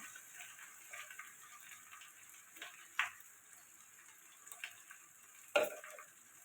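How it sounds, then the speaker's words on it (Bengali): Soybean chunks and potatoes stir-fried in a pan, a faint sizzle with a few scattered scrapes and knocks of the spatula, sparse and quiet, with no talking. "সয়াবিনগুলো দিয়ে দেবো দিয়ে এটা ভালো করে কষাতে থাকবে"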